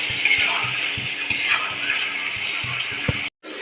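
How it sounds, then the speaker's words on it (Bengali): Aar fish sautés in a pan for a Bengali village-style recipe, giving a bright continuous sizzle with soft, irregular clinks and scrapes of stirring, up close, ending in a brief cut to silence. "কষানো হচ্ছে আর মাছ।"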